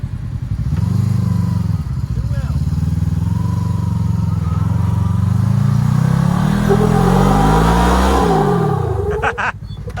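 An off-road vehicle climbs a Moab slickrock trail in two-wheel drive, its engine droning loud and close, rising and falling in pitch as it labors, with clatter from the drivetrain and terrain.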